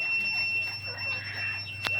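A steady high electronic beeping tone from an egg incubator pulses repeatedly, close and moderately loud, over a low hum, with a brief click near the end.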